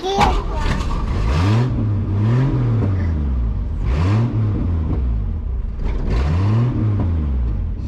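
An old Mercury Comet car engine revs up and sags repeatedly while struggling to idle, loud and close, with a rising-and-falling whine in rhythmic surges and a person speaking over it.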